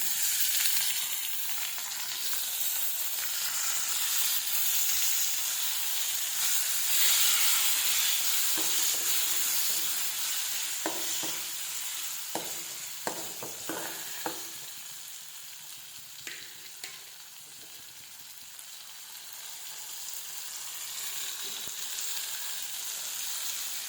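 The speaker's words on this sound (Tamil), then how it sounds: "தக்காளி நல்லா வதங்கி வரட்டும்." Tomatoes sauté with onions in a pan for a mango kuzhambu, giving a steady hiss and sizzle for the whole stretch, with scattered clicks and scrapes of stirring midway.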